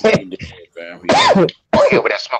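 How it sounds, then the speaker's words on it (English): A man coughs and clears his throat in a few rough bursts during a podcast, with his voice mixed in between. "I'm still coughing"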